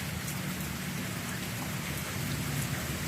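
Heavy rain pours steadily onto muddy ground, a dense continuous hiss of drops hitting surfaces close by, with no voices.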